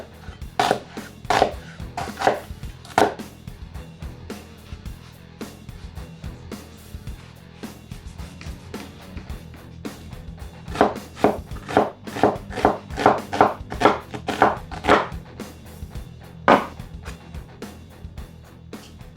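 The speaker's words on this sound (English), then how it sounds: "So I'm just going to chop this up finely" Raw red onion chopped finely with a knife on a board for a braai salad: quick rhythmic knocks in two bursts separated by a pause, close and crisp, with no talking.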